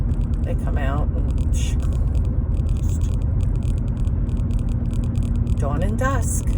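A car cruising along a road at dusk through deer country, a steady close engine and road rumble with faint rattles, while someone talks over it throughout.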